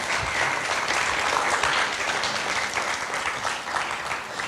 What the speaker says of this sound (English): Shall we give them a round of applause if they are?